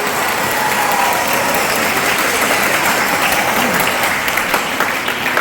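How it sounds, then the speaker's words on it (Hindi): A church congregation at a Christmas service in Pakistan applauds loudly and steadily, a dense, continuous wash of clapping that fills the whole stretch without pause. "जोरदार तालियां।"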